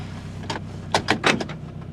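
A car idles after a cold start in 7-degree weather under a steady low engine hum, while a few rough, bumpy clunks and scrapes from the brakes come in quick bursts close by.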